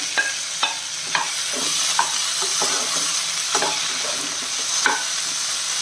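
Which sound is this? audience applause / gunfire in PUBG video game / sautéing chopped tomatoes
sautéing chopped tomatoes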